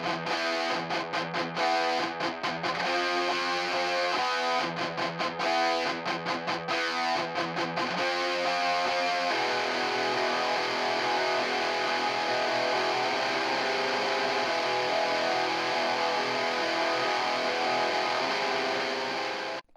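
Heavily distorted electric guitar, miked with a Shure 57 about two inches back and a 421 at a distance, plays choppy stop-start chords before settling into a sustained, dense wall of fuzz, loud and continuous with no voices.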